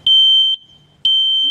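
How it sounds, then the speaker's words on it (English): A household smoke detector sounds two loud, piercing electronic beeps about a second apart, each a sustained high tone, alone with no talking. "please own a smoke detector in your home"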